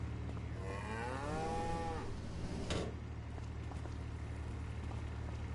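A cow in the farming video game Farming Simulator 25 lets out one long, drawn-out moo lasting about a second, followed by a short knock and a steady low background hum.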